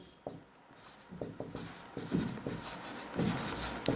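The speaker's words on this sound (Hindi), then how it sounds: "यहाँ पे मैं लिख के दिखाता हूँ" Chalk or marker taps and scratches on a board as a maths lesson on set-builder form is written out, a series of short, irregular strokes close by, alone without speech.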